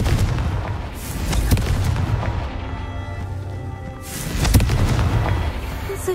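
A Confringo fire spell explodes in the video game Hogwarts Legacy: a loud blast bursts near the start and another hits around four seconds in. Rumbling, crackling game noise fills the gaps between them, with no talking.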